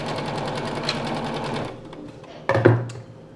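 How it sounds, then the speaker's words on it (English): A sewing machine runs a straight stitch through fabric for a bridge hammock bug net, with a steady whirring run for about a second and a half, then a pause and a short final burst. "we'll just line them up and put a line of straight stitching through it"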